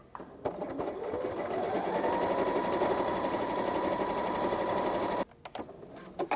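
A sewing machine stitching a row of embroidered red thread hearts onto a blue Christmas stocking runs at a steady, loud whir for about five seconds after a few starting stitches, then stops with some handling clicks.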